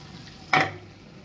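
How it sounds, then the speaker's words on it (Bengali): Chicken dropped into a hot pan for biryani prep gives one sudden burst of sizzling that swells briefly and then settles into a faint, steady fry. "এই যে চিকেন বসিয়ে দিলাম"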